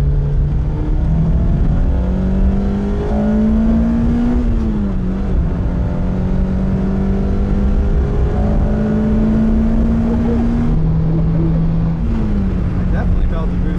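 A Lotus Elise sports car accelerating through the gears, its engine note climbing in pitch, dropping sharply at each shift and rising again, heard loud from inside the cabin.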